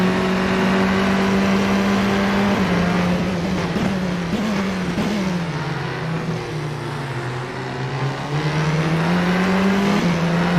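A British F4 single-seater lapping Knockhill in a racing simulator, its engine note rising and falling steadily through gear changes and corners, continuous and fairly loud with no talking.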